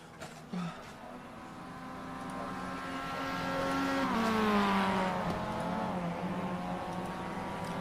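Racing video game car engine revving and rising in pitch through gear changes, with tonal whine and a brief tire squeal, moderately loud and continuous over several seconds.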